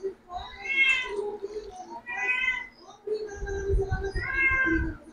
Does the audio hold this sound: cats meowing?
yes